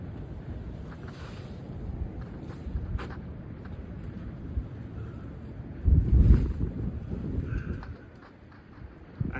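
Strong gusts of wind blow through trees outdoors, roaring steadily as broadband noise with a louder buffeting surge near the microphone partway through before easing off.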